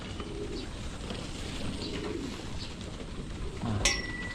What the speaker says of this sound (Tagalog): papaya, kakain na aking mga kalapati